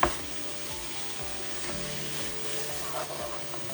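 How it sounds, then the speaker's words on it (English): Ground beef mixed with curry paste and onion sizzles in a hot pan over high heat, a steady close hiss with faint stirring scrapes running throughout. "Now I'm gonna crank up the heat so the meat would sear"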